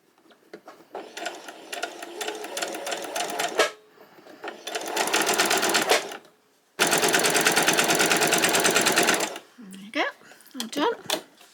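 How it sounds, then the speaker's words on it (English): A sewing machine runs in three close, fast bursts, stitching along the back of lining material for a pleated top, with short pauses between runs and a person speaking briefly at the end. "we're going to stitch straight the way along that the back of the lining material"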